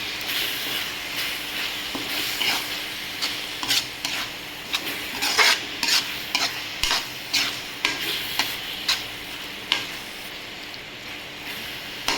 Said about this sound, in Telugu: ఇది వేసి కొంచెం కలిపేస్తాం.